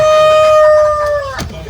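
A rooster on Sir Bobby's chicken farm gives a single long crow, loud and close, its held note breaking off near the end, over a low background of other birds.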